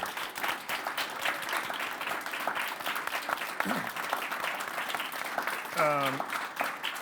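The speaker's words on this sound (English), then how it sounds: "I really want them to have a round of applause" Audience applause fills a lecture hall to honor the staff, a dense, steady clapping held at even loudness throughout, with a brief whistle-like tone near the end.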